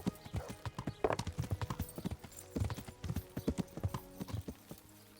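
A horse's hooves clip-clop steadily on the ground in Kingdom Come: Deliverance, a close, rapid, uneven rhythm of hoof strikes throughout with an occasional snort.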